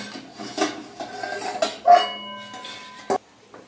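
A metal plate used as a lid is lifted off a pot of steamed milk-and-egg pudding, making soft metallic scrapes and then a couple of sharp, ringing clanks close by.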